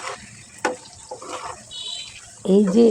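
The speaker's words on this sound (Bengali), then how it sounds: "সিম আলুটা আমি মশলার সাথে একটু কষিয়ে নিচ্ছি, ঢেকে ভালোভাবে কষিয়ে নিচ্ছি, পরপর নেড়ে চেড়ে দিচ্ছি।" Flat beans and new potatoes sizzle with spices in a pan for a tomato curry with fish, with stirring scrapes, a steady frying hiss and a louder burst near the end with a brief voice-like tone.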